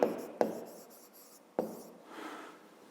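A 5th-grade math solution being written out by hand: scratchy, rubbing strokes run close and steady for about three seconds, broken by sharp taps near the start and midway, with no voices.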